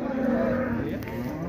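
Cattle with calves at a livestock market in Shymkent: a drawn-out, fairly close moo sounds over a busy market background of low murmur.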